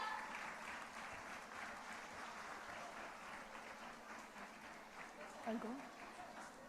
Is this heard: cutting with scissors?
no